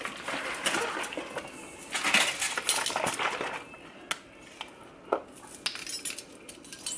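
A metal tablespoon clinking against cutlery and dishes while foil packs of shrimp and broccoli are assembled: scattered sharp taps and clatters, some louder bursts early, then sparse isolated clinks, close by with no voices.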